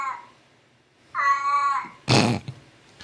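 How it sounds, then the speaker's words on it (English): A cat gives a faint short call, then a clear drawn-out meow, followed by a loud sharp noise burst, close by and with no talk. "Evidently, Alf's cat agrees."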